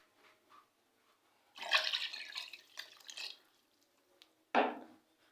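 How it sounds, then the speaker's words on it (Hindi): Two bursts of water splashing and pouring into a pot of bones, about 3 to 4 liters in all, the first longer and sloshing, the second short and strong, with quiet pauses around them. "इसमें तकरीबन 3 से 4 लीटर मैं इसमें पानी ऐड करूँगी"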